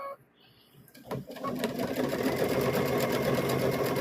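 A sewing machine stitching fabric for a stuffed bear, starting after a brief pause and then running in a steady, fast, close mechanical rattle that continues to the end.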